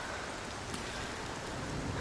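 Rain pours down in the climbing video game Cairn, a dense, loud and steady wash of drops with no pauses and no voices over it.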